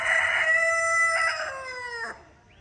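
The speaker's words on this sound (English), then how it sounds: "I don't know their crowing pattern" A single loud rooster crow rings out nearby in Ghana, a long, drawn-out cock-a-doodle-doo lasting about two seconds, with no voices.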